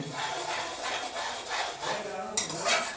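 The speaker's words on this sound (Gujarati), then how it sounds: "હવે લસણ અંદર એડ થાય છે" Green garlic stirred into hot ghee with cashews in a pan, a steady scraping and rubbing of the spoon against the metal, with a brief clink near the end.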